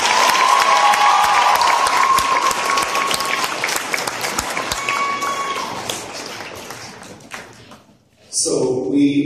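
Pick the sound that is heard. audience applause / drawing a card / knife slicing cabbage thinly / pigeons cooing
audience applause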